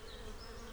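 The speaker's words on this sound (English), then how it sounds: "Then the bees will buzz around my flowers and back to their hives." Bees buzzing around flowers near hives in an animated railway story, a continuous dense drone of several insects, close and steady, with no voices.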